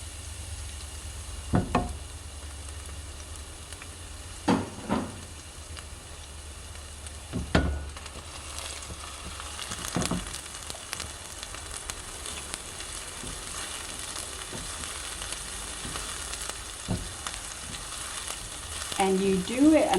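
Garlic and onions fry in hot oil with a steady soft sizzle, broken by occasional louder scrapes and clatters of stirring, with a voice briefly heard near the end.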